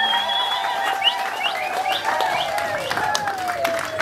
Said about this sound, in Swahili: Pigia Bwana Yesu makofi na shangwe na vigelegele.